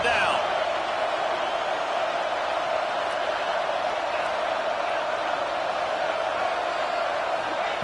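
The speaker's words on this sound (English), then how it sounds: "Decibels rising as the crowd gets behind this defense on third down." A football stadium crowd roars steadily on third down, a dense, loud, unbroken wash of cheering that stays at one level throughout.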